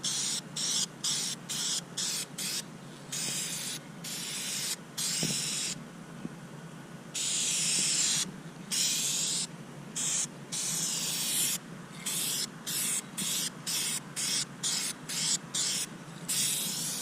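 Rust-repair paint is sprayed onto a car's hatch in repeated short aerosol bursts, crisp hissing puffs separated by brief pauses, with one longer continuous spray partway through.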